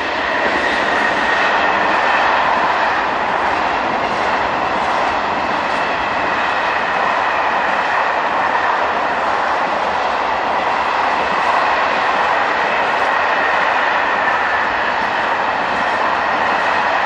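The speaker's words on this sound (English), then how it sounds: "Heading towards the camera is BB27051, on a trainload of curtain-sided and sliding door bogey wagons." A long freight train hauled by a BB27051 electric locomotive rolls past steadily with curtain-sided and sliding-door bogie wagons, wheels clattering rhythmically over the rails with a continuous metallic rumble, fairly close.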